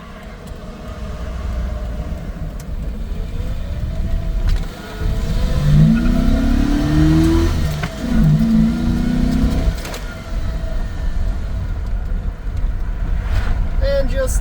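A truck pulls away from an O'Reilly's parking lot, its engine rising in a steady rev over a few seconds, then easing off amid ongoing road and wind noise.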